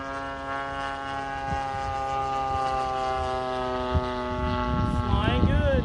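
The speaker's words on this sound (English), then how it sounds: "A couple of full throttle passes there" Great Planes Revolver 50cc RC plane at full throttle, a steady buzzing gas-engine drone rich in harmonics, shifting pitch as it passes near the end, while someone talks over it outdoors.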